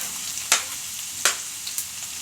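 Tomato added to a tilapia picadillo frying in a pan, a soft steady sizzle broken by two or three sharp spatters or clinks, with no talking.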